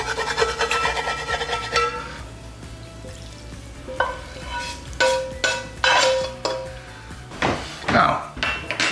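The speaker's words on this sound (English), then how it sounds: "take some of your turkey stock and get it in there and scrape it all off" A utensil scrapes and stirs browned fond off a roasting pan loosened with turkey stock, giving rough rasping strokes and soft sizzling, with a few sharper scrapes toward the end while someone talks.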